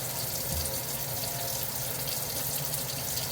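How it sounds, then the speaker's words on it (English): Hands are rinsed under a running kitchen tap while dinner is being prepped, with steady, close water splashing into a sink that runs on without pause and no talk. "Do a quick hand wash here."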